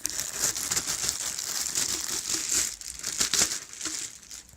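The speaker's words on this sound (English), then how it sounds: "so let's slide the bag out" A plastic bag crinkles and rustles continuously as it slides off a newly unboxed Behringer synthesizer, close and steady with a few sharper crackles.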